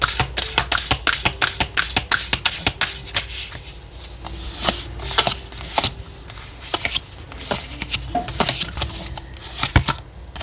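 Oracle cards shuffled by hand in a tarot reading, a long run of quick crisp riffling and tapping bursts with no talk.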